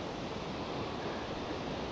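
Steady broadband rush of river water flowing beside a forest campsite, a continuous close wash with no pauses and no voices.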